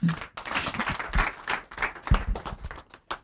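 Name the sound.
clapping on a radio program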